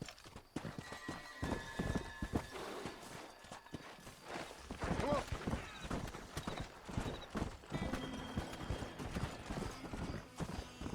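Horse hooves clip-clopping at a ridden pace in Red Dead Redemption, a continuous rhythmic run of hoofbeats with an occasional whinny, close and moderately loud.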